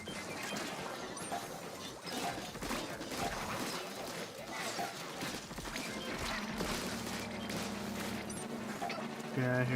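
Rapid splattering ink-gun fire from a Splatoon Salmon Run shift against a Steelhead blocker boss, busy and continuous with crashes, pops and game music layered throughout.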